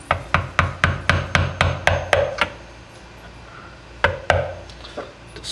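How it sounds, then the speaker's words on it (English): A screwdriver driven as a wedge between the aluminum engine case halves of a TaoTao 110D quad gives a fast run of about a dozen sharp, evenly spaced metallic strikes, a brief pause, then a few more close, loud hits. "Using my screwdriver as a wedge."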